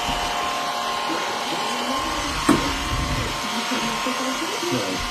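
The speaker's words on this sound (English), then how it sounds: "You gonna vacuum out the cabinet for me?" A vacuum cleaner with an attachment drones steadily while cleaning out a home cabinet, a loud close hum with one brief knock midway and voices over it.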